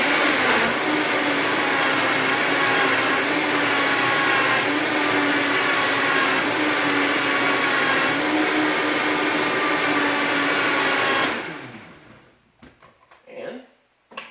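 A blender whirs loudly and steadily for about eleven seconds as it mixes a protein shake with water, then cuts off abruptly, leaving brief quiet with small handling noises.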